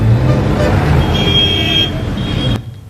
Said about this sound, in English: You can hear car, bus, isn't it?